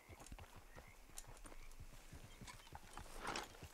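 Horse hooves clip-clop in a quick, even rhythm in the Red Dead Redemption II video game, close and fairly soft, with a brief snort or rustle near the end.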